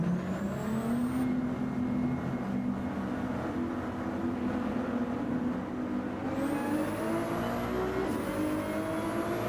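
A Ferrari GT3 race car in a sim racing game lapping Laguna Seca drones loudly and continuously, its engine note climbing through revs with a few sharp gear shifts.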